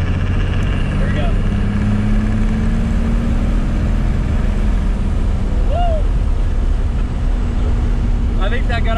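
A 1st Gen Cummins diesel truck fitted with a BigHead wastegate actuator pulls from about 1200 RPM at 60 km/h, its steady low engine drone building under road noise and occasional voices.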